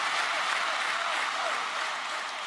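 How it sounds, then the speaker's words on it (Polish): Crowd applause at a Nowoczesna party convention in Warsaw, dense steady clapping from a large audience, slightly fading toward the end. "Brawa dla pana Rafała"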